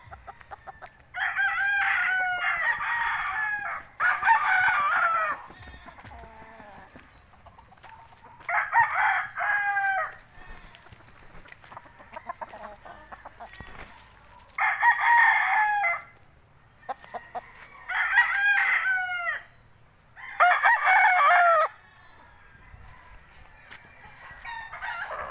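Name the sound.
rooster crowing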